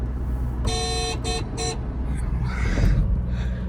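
A Toyota Innova travels along a road with a continuous low engine and road rumble. Several short horn toots sound nearby from other traffic, and faint voices can be heard under the noise.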